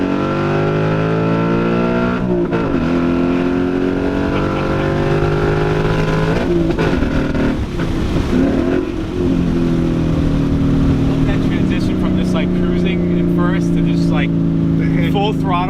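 A 2019 Ford Mustang GT V8 revving at full throttle, a loud interior engine roar climbing through the gears with harmonic sweeps and gear-change dips, with voices talking over it.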